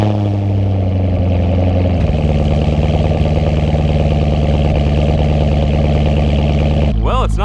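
A Corvette engine idles loud and close with a deep, steady rumble, its pitch dropping slightly after a couple of seconds, while a voice speaks over it near the end.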